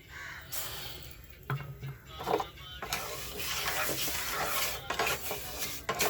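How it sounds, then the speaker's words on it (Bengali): A spoon scrapes and clatters in a pot as sugar syrup is stirred, with irregular metallic knocks over a soft, continuous background hiss. "ভালো করে নাড়াচাড়া করে চিনি শিরাটা"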